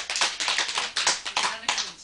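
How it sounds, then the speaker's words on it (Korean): A small group claps in several quick bursts, sharp close slaps in uneven clusters with brief gaps between them, loud and dry. "알았으면 박수 쳐"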